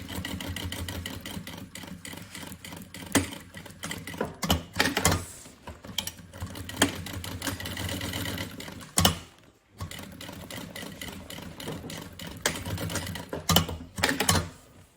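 Two seams are stitched on a sewing machine across the ears of a bunny backpack, in repeated bursts of rapid mechanical running with short pauses and a brief stop in the middle.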